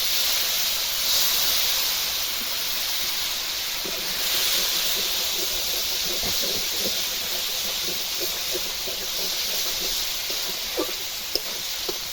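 Water poured into hot spiced oil for a fish curry sets off a steady, loud hiss and sizzle that holds throughout with small crackles and pops.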